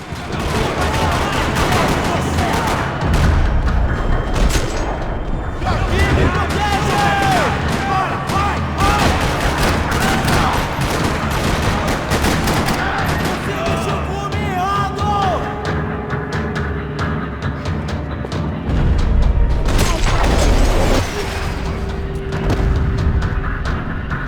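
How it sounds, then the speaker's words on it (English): Sustained gunfire rattles through a parking lot in the video game Max Payne 3, dense overlapping shots and bursts continuing loudly and steadily, with occasional heavier booms. "Another parking lot rattling with gunfire."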